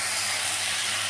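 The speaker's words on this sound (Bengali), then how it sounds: "এবার এটা মশলাটা একটু ভাজা ভাজা হচ্ছে।" Masala paste fries in a pan with a steady, close hiss and sizzle that holds evenly through the brief moment.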